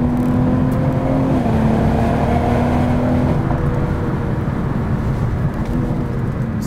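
A BMW M440i G22 with an inline-six engine and xDrive is held in third gear, and its note stays loud and steady from inside the cabin at high revs, dropping briefly in pitch before continuing.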